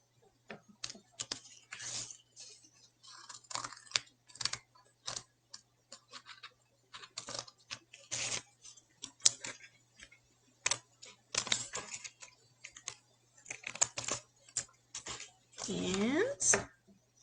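Paper shapes being snipped with scissors for a shark-feeding craft, a steady run of short, crisp cuts close by with brief pauses in between.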